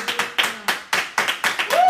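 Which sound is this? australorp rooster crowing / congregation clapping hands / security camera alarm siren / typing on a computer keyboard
congregation clapping hands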